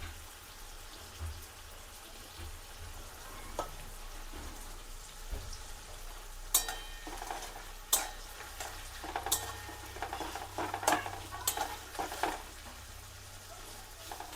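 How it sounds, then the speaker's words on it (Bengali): Onion fries in a pan for a mutton curry, a faint continuous sizzle with scattered scraping stirs and clinks growing busier toward the end. "পেঁয়াজটা একটু লাল লাল করে ভেজে নেব"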